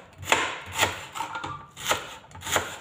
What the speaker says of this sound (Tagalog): mag-slice muna ako ng onions